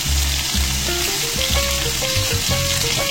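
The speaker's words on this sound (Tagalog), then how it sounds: "So, i-fry na natin." Pork spareribs fry in a pan with a loud, continuous close sizzle and crackle, and nobody speaks.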